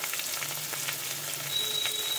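Potatoes fry in hot oil in a pan at close range, giving a steady, even sizzle with faint crackles throughout and no talking.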